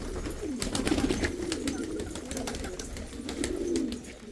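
Pigeons at a loft give repeated close, throaty cooing in rolling phrases, one call overlapping another throughout.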